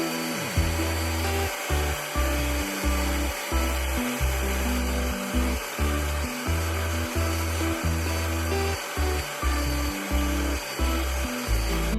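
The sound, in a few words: Bissell Pro extractor cleaning car carpet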